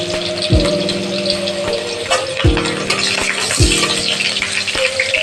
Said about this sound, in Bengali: পেঁয়াজটা একটু ভাজা হয়ে আসে।